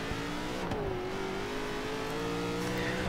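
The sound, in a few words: modern muscle car engine in video game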